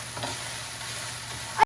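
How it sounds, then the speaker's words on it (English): Ground beef browning in a pan with Tex-Mex seasoning, a steady soft sizzle running evenly throughout, ending with a short scrape of the spoon. "Now, after you brown the beef, this will take 2 to 3 minutes."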